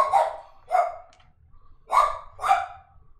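A dog barking close by, four loud, sharp barks in two pairs separated by a short pause, with no talking over them.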